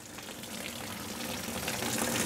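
Water draining out of a blown Porsche 986 Boxster engine during removal, a continuous trickling, splashing wash that grows slightly stronger, close by and alone.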